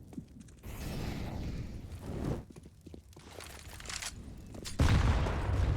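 Grenade blasts and gunfire in a Counter-Strike: Global Offensive pro match on the Inferno map, with several utility grenades going off in quick succession. Loud, busy bursts fill the scene, and the heaviest blast lands near the end.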